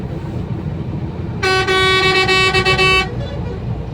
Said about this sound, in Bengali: এদিকে বাস হর্ন দিয়ে যাচ্ছে